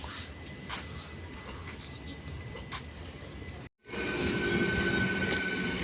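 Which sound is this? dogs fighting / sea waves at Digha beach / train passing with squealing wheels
train passing with squealing wheels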